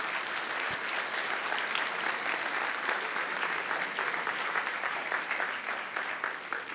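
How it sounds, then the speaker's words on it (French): Dense, continuous applause from a large audience at a university academic opening ceremony fills the hall as people return to their seats, sustained and even with a bright crackle of many hands. "Je vous invite à retrouver vos places sous vos applaudissements."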